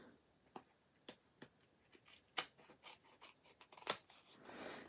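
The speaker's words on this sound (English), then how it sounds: "I'm going to go ahead and cut out those pieces." Quiet, close snips of scissors cutting card-making paper pieces, a dozen or so irregular crisp clicks and swishes with a soft rustle at the end.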